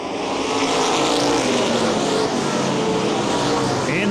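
Modified race cars roaring around Baer Field Speedway oval, a dense continuous engine din from several cars at once, loud and steady throughout.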